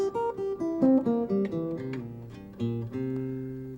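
An acoustic guitar plays a dominant seventh arpeggio, single notes picked one after another and rising then settling, played softly and heard alone without talk.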